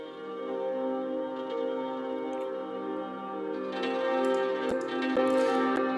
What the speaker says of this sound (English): the granular synthesizers going through the reverb